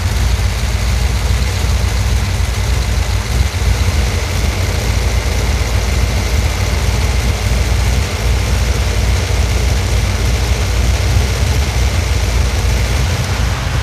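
A car engine idling on a dyno in a workshop, a loud, steady low rumble that holds unchanged from start to finish with no talk over it.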